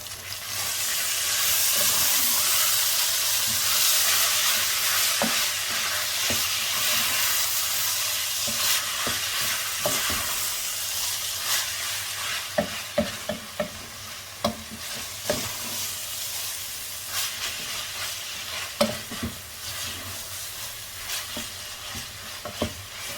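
Bolognese sauce with sweet corn stirred in a sizzling pan, a steady hissy fry with repeated scraping and clacking knocks of the spoon that grow sharper toward the end, close by with no talking.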